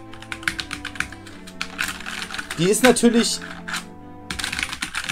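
Rapid clacking keystrokes on a Drevo Calibur mechanical keyboard with a QWERTZ layout, typed close by in bursts, with someone speaking German between and over the clicks.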